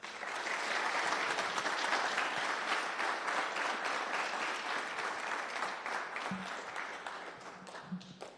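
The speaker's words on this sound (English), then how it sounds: "Can we get one more round of applause" Sustained applause from a crowd at a national Venturing leadership awards reception, honouring award recipient Andrea; a broad, steady wash of many hands clapping that slowly thins toward the end.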